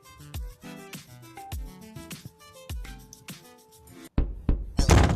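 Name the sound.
knocking on a door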